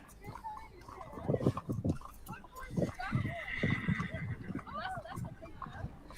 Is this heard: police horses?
yes